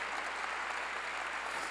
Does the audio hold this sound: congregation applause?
yes